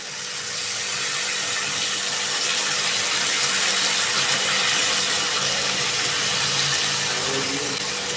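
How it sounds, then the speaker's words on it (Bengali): Water poured steadily into a cooking pot for a Bengali prawn dish with ol stalks, a continuous close gushing rush lasting the whole stretch with no talk. "এবার আমি দিয়ে দিচ্ছি জল"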